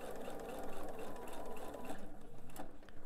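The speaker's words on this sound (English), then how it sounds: "I'm going to backstitch at the beginning and the end." A sewing machine runs steadily and close by, stitching a dart on the front panel of a purse with backstitching at the ends. Its motor hums with a rapid, continuous needle rhythm.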